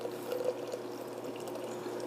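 Water pours steadily into a French press, a soft, quiet, continuous stream lasting about two seconds.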